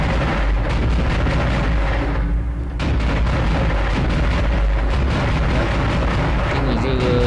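In the video game Dead Space, a loud booming explosion blasts a big creature blocking a doorway, with heavy rumbling blasts and debris continuing throughout, while someone talks over the action.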